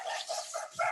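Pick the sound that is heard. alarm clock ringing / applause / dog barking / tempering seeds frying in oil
dog barking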